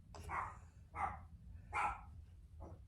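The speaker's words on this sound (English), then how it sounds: "you can probably hear my little Lily in the other room barking" A small dog barks from another room, four muffled, distant barks spaced unevenly over a low background rumble, with no speech.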